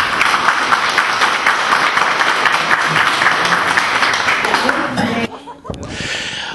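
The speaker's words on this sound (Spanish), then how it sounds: "yo por eso pido un aplauso para ellos" A crowd at an outdoor citizens' environmental meeting in Litueche, Chile applauds and cheers loudly for several seconds, with some laughter mixed in, before the clapping cuts off and a voice is heard.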